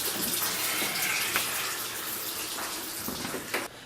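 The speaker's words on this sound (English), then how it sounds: "How many times did I tell you to turn off the water when you brush your teeth?" Tap water running steadily while someone brushes their teeth, a continuous hissing splash from a faucet with a few brief clatters near the end, no voices.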